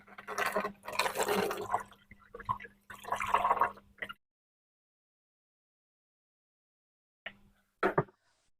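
DIY KH alkalinity solution, the clear upper layer, being poured into a container, with a few seconds of close liquid trickling and splashing, then silence, then a couple of short drips or splashes near the end.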